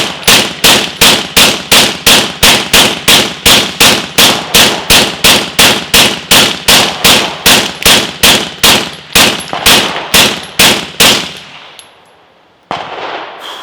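Rapid, evenly spaced suppressed subsonic gunfire through a Gemtech GM-9 silencer, a long string of about two dozen loud, punchy reports in steady rhythm before stopping, followed by a brief mechanical clatter.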